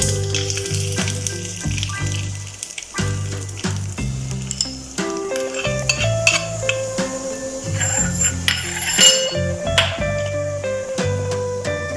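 Hot oil tempering crackles and sizzles loudly as it is poured over coconut chutney, with steady frying hiss, spitting pops and a few clinks of a utensil against a pan throughout, no talking.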